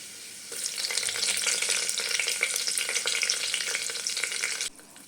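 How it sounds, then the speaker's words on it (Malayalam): Finely chopped garlic hits hot oil in a pan for dal fry. It bursts into a loud, dense crackling sizzle that holds steady for about four seconds and then cuts off abruptly. "ചെറുതായിട്ട് അരിഞ്ഞു വെച്ചിരിക്കുന്ന വെളുത്തുള്ളി ചേർത്ത് കൊടുക്കാം വെളുത്തുള്ളി നന്നായിട്ടൊന്ന് മൂത്ത് വരുമ്പോൾ"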